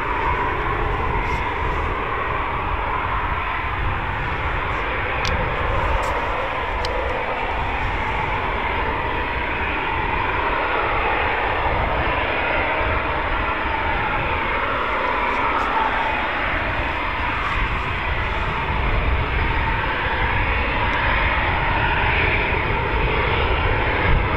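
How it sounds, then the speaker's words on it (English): RAF Eurofighter Typhoon FGR4 jet engines at Coningsby send up a continuous broad roar that holds steady and loud from a distance, with a voice talking over it now and then. "Usually Rebel like to uh, blast out a performance take off"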